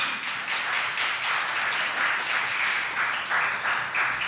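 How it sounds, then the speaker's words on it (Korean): A church congregation applauds the Gloria choir during a Sunday worship service, steady close clapping of many hands sustained evenly for several seconds with no talking. "글로리아 찬양대에게 격려의 박수 부탁드립니다."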